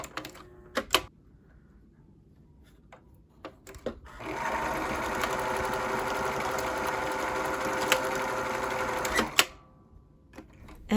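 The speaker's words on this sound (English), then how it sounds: "that is the sound of what I believe is a well-threaded machine" A well-threaded sewing machine stitches steadily for about five seconds with a fast, even mechanical whir and clatter, framed by a few sharp clicks and handling knocks before and after.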